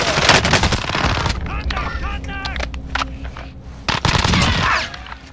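Rapid bursts of Fennec submachine gun fire in Call of Duty: Warzone, loud and close, with a gap in the middle before a second burst near the end, mixed with game effects and a player's voice.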